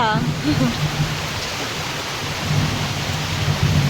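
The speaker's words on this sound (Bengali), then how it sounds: "বৃষ্টি হচ্ছে আর মেঘ ডাকছে" Heavy rain pours steadily while thunder rumbles loud and close, with a faint voice briefly audible at the start.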